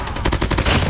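Call of Duty automatic gunfire, a fast rhythmic string of about eight loud, close shots in under a second, heard alone without talk.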